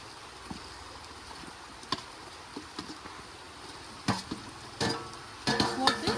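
Boiled meat sautéing with ginger garlic paste in a pan makes a soft, continuous sizzle, broken by scattered scraping and stirring clatters that grow busier toward the end.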